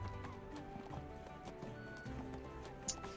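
Horse hooves clip-clopping in the Neverwinter video game, a steady rhythmic trot under a busy layer of game music and ambient effects, with a brief chime near the end.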